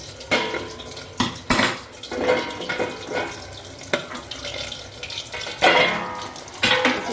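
While frying pabda fish, a metal lid comes off the pan and the fish are lifted out, giving a run of sharp clanks and scrapes of utensils against cookware, spaced irregularly over a soft background hiss.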